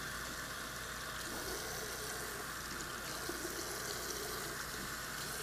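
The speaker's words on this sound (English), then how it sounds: "I'm going to turn a little bit of cold water on." A cold-water tap in a food-service hand-washing sink runs steadily, a continuous even rush of water under a low background hum, with no talk.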